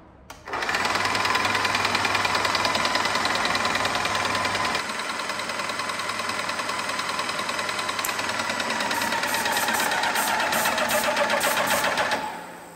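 A paint sprayer pump switched on and priming with green paint drawn through a suction pipe, a loud, steady mechanical chatter running close for about twelve seconds before cutting off.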